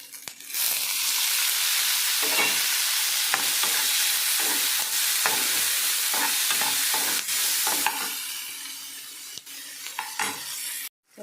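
Tomatoes frying in a pan for tomato gojju, a steady bright sizzle running throughout with repeated scraping stir strokes and soft clinks of the spoon against the pan.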